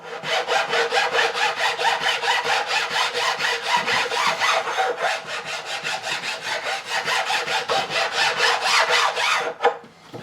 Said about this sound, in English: Now I'm going to hit it with a file, like so. Just smoothing it all off.